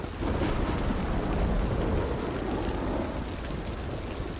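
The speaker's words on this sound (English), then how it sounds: "Nice thunderstorm as some background noise." A thunderstorm in the zombie survival game Project Zomboid gives a steady, loud roar of rain and rumbling thunder that fills the whole stretch, with no voices over it.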